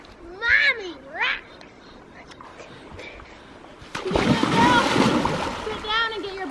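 A young child splashes through water while swimming across and back, bursts of churning splatter close by, with children's voices calling out around it.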